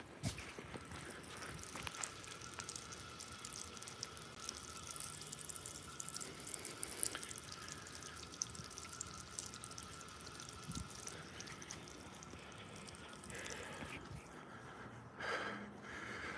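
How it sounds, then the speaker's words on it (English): Water runs steadily from a backyard pool's autofill valve into the pool, a constant close-up trickle and splash with faint dripping, continuing without pause and without any voices. "Turns out my pool has an autofill."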